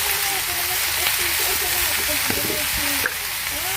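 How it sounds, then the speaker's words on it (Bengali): Bitter gourd frying with lightly fried onion and green chilies in a home kitchen pan: a steady, close sizzle that runs throughout, with a few soft stirring knocks. "আর পেঁয়াজটা একটু হালকা ভাজা দিচ্ছি, বেশি পুরা পুরা করিনি।"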